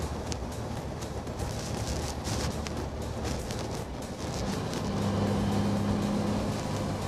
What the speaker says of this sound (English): it'll shift down gears to hold the vehicle at that set speed